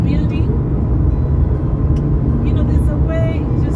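A 2015 Toyota Auris with a 1500cc engine drives at speed, producing a continuous low road and engine rumble from inside the cabin with faint wind noise.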